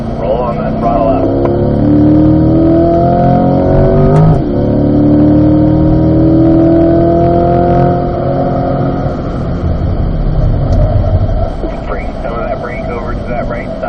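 A Corvette engine accelerates hard on a race track, with a loud rising roar of climbing revs that falls away and climbs again, as an instructor talks over it.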